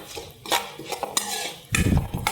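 A spoon scrapes and clinks against a pan while urad dal and spices are sautéed in oil for a cabbage dish, producing irregular close metallic knocks and scuffs with a faint sizzle underneath.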